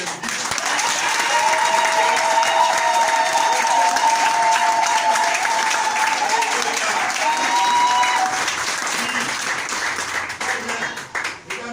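Church congregation applauding in a long, steady burst of clapping that holds strong for about ten seconds and then tapers off, with faint voices underneath.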